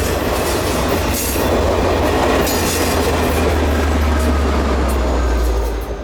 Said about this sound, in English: L620 swings into Cary's junction, known as Fettner, on the railroad